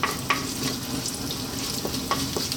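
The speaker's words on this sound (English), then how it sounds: "Let's drop in our cumin seeds and our black mustard seeds." Cumin and black mustard seeds sizzle in hot sunflower oil for a red lentil dal, a steady close frying hiss with a few sharp pops and crackles scattered through it.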